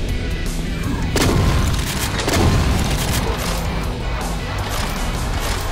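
Heavy gunfire in the shooter Final Doom with the Project Brutality mod, aimed at a chaingunner: dense, continuous booming shots and impacts, loud and unbroken throughout, with no voice audible over it.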